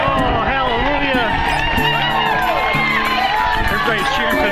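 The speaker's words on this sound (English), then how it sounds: "Everybody's cheering because there's one cloud on the course." Spectators line the Boston Marathon course, cheering, whooping and shouting loudly in a continuous dense roar, with voices talking over it nearby.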